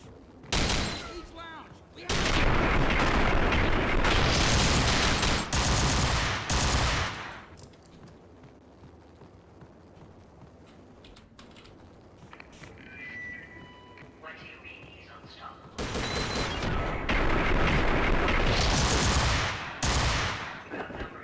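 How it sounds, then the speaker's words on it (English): Modded guns blazing in Max Payne, two long loud stretches of rapid heavy gunfire separated by a quieter gap of scattered game sounds. "Jeez, these guns are loud."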